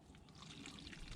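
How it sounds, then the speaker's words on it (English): Source water poured into a cup for a survival water filter test, a faint, brief steady trickle of liquid heard alone. "I'd like to pour this source water into this cup"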